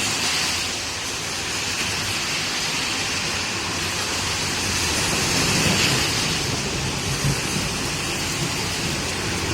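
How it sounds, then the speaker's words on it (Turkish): Steady rain pours down during a storm in Konya, a dense, continuous hiss that swells gently and holds at a constant, fairly loud level from start to finish, with no voices. "Allah'a şükür Konya'mıza bir yağmur yağdırdı"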